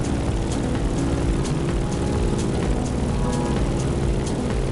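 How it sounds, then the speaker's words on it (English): A Grumman F-8F Bearcat propeller fighter flies in a racing game, its piston engine and airscrew giving a loud, continuous, buzzing drone with a few brief whooshing swells. "In the cockpit of a stunning Grumman F-8F Bearcat,"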